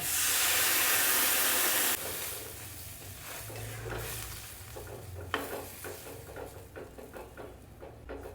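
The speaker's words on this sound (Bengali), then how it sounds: "এবারে আমি দিয়ে দেব পরিমাণ মতন জল" A loud hiss and sizzle as water hits a hot pan of fried vegetables for a vegetable curry, settling into a steady bubbling simmer with occasional stirring scrapes.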